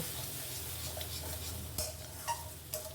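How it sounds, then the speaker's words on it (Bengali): A ground filling for stuffed pointed gourd, seasoned with salt and turmeric, sautés in a pan with a quiet, steady sizzle and a few soft scrapes of stirring. "স্বাদ অনুযায়ী লবণ দিয়ে দিচ্ছি আর দিয়ে দিচ্ছি হলুদ এই দুটো দিয়েই ভালো করে কষিয়ে নেব"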